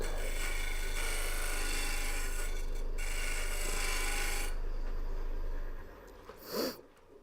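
A detailer tool cutting a maple burl vase on a wood lathe, a loud continuous rasping scrape with the lathe's low hum underneath, stopping near the end before a short final scrape.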